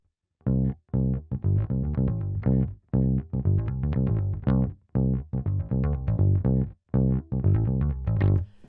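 A bass guitar plays a bouncy, syncopated Motown riff, short punchy notes in repeating phrases, clear and close with no voices.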